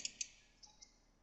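A computer mouse clicks four times in toolpath software, two sharp close clicks followed by two softer ones, quiet and isolated against near silence.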